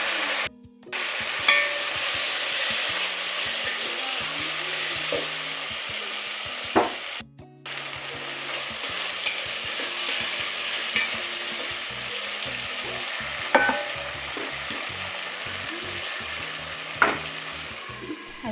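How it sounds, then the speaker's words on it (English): Chopped tomatoes fry in a pot for a fish stew, a steady sizzle broken by repeated stirring scrapes and occasional knocks of the spoon, close and continuous with no talking. "Add in chopped tomatoes and stir well."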